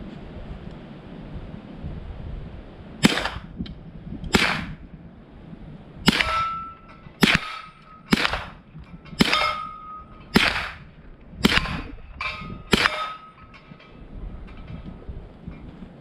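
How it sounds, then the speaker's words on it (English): A MAT9 9mm short-barreled rifle fired outdoors: about a dozen sharp, loud single shots at uneven intervals, some in quick pairs, each with a brief metallic ring over a low background rumble. "good old MAT9 9mm SBR"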